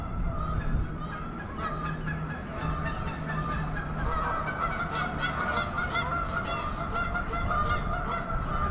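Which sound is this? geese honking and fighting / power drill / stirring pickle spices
geese honking and fighting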